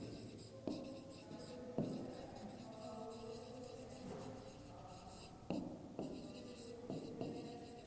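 Pen or marker writing out a money sum during a class 4 math lesson, a steady scratchy scrawl with a few sharper taps as strokes start, close and fairly quiet, with no talking.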